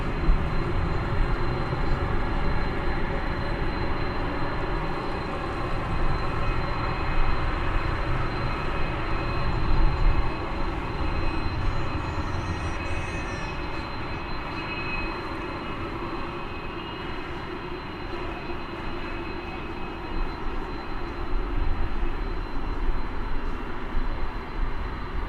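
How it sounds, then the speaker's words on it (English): American Airlines Boeing 777 departing for London, heard from an airport spotting spot as a long, loud, broadband jet engine roar that rumbles steadily for the whole stretch, with no speech over it. "I'm going to swing around now to watch the triple going out to London"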